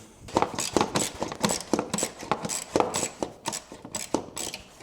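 Exhaust clamp being loosened with a 10mm socket during a slip-on exhaust install on a 2026 Kawasaki ZX-6R motorcycle: close, rapid metallic clicks and clinks repeating in quick bursts throughout.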